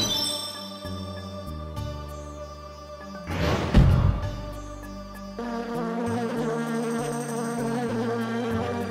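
Bees in Alundra 2 swarm in with a loud buzzing burst midway through, rising over chiptune-style game music and fading back under it within a couple of seconds.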